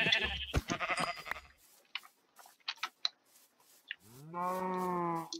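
Minecraft sheep bleat in the video game, a clear drawn-out baa near the end after scattered clicks and game noises, fairly quiet with no talking.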